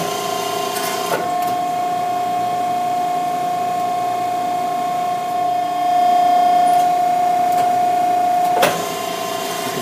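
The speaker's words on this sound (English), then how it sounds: "turn on the press brake, and check the function of the press brake micro switches" Accurpress press brake switched on and running, a steady electric hum with a tonal whine held for the whole stretch, marked by two sharp clunks near the start and end.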